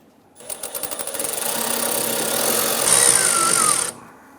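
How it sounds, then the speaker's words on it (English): A power driver with a 1/4-inch socket loosens fuel line hose clamps on the tank of a 1995–2001 Ford Explorer during fuel pump replacement, buzzing in quick pulses that run into a steady whir for about three seconds, then stopping. "Using our 1/4-inch socket, we want to go ahead and loosen these clamps holding our fuel lines to the tank."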